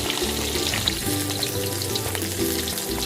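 Snakehead fish frying in boiling oil, a dense, continuous crackling sizzle that stays loud and close throughout.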